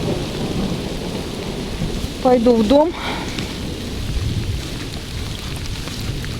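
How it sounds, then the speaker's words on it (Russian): Heavy rain pours steadily through a thunderstorm after hurricane-force winds, a broad rumble of downpour filling the scene while someone briefly speaks over it. "Ну что, дождик продолжает поливать."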